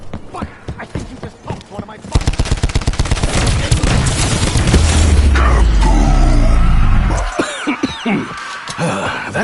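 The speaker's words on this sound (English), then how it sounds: "That was a very large explosion." A large explosion in Call of Duty Black Ops 4 Zombies, preceded by rapid rhythmic gunfire-like bursts that swell into a loud, sustained roaring blast lasting several seconds before fading into a quieter voice.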